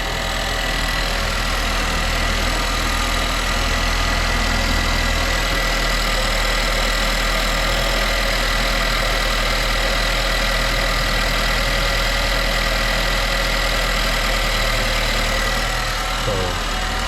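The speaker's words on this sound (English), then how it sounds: "definitely the turbo's leaking" A Nissan Juke engine idles steadily with a leaking turbo, giving a continuous close mechanical hum and broadband hiss with a faint rattle throughout, no voices.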